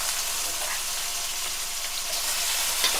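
Chicken pieces frying in oil in a pan for curry leaf pakodi give a continuous bright sizzle and hiss throughout, fairly even in level, with no talking.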